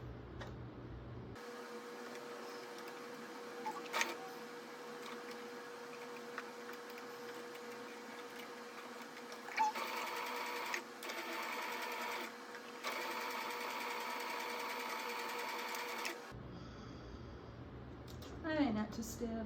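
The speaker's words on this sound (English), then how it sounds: "I'm gonna attempt to sew the third side" A sewing machine stitches the third side of a handkerchief in steady whirring runs that stop and restart several times, close up, with a person speaking briefly at the end.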